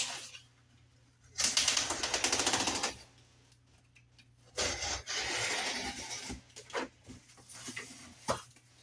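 A knife saws through heavy cardboard for a diorama in bursts of rough scraping and tearing, two long strokes followed by shorter choppy cuts and a few sharp snaps, close and fairly quiet.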